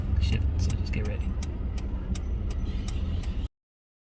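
A car's engine rumbles steadily as the vehicle pulls away on a steep hill in Matagalpa, with sharp clicking ticks repeating throughout and voices talking over the drive.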